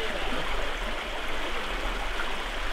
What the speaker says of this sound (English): Another way to go is a temporary weir, like this one on Casper Creek.